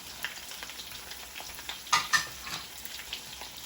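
Beef for chopsuey frying in a hot pan as it is stirred, a soft continuous sizzle broken by a couple of louder scraping clatters near the middle.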